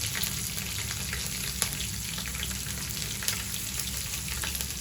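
Green chillies and curry leaves fry in hot oil with a steady, soft sizzle and occasional small crackles and pops, for a South Indian vegetable lemon rice.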